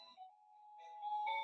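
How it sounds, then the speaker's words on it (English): A doorbell chime playing Jingle Bells, a short run of clear electronic tones heard alone and fairly faint indoors, getting louder toward the end. "That's my doorbell."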